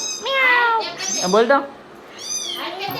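A pet cat meows several times close by, drawn-out rising and falling cries, with a person coaxing and talking to it between calls.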